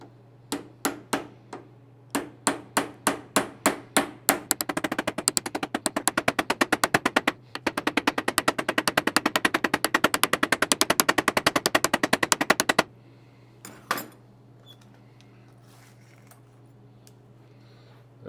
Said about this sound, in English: Get my other hammer.